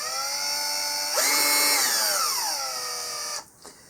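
A $14 Warrior cordless drill from Harbor Freight whines alone as its multi-speed trigger is worked, the motor pitch rising sharply then gliding down before cutting off, with a brief rattle at the end.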